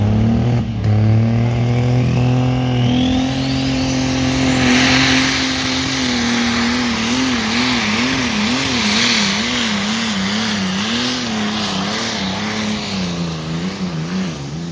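A pulling tractor's engine roars continuously at a Brande pulling arena event, climbing in pitch and then holding a loud, wavering rev for the whole stretch, close and dominant with no talk over it.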